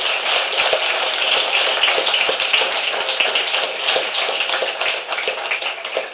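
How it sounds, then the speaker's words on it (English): Loud, sustained applause from a crowd at an Eagle Scout Court of Honor, dense clapping filling the whole stretch without speech. "Let's give them a round of applause to thank everyone."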